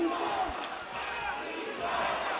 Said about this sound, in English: Crowd still engaged in the Manawatū.